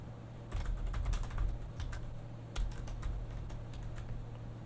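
Keys clatter on a computer keyboard as HTML code is typed out by hand, a steady run of close, crisp clicks with a couple of louder bursts and no talking.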